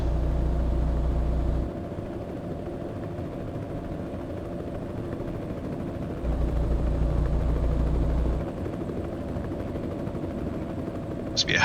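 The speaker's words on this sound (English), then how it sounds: "Must be a helicopter flying right above us." A helicopter passes overhead in American Truck Simulator while driving a Western Star 49X truck through Oregon, a steady low rotor rumble under the truck engine that swells and fades over several seconds.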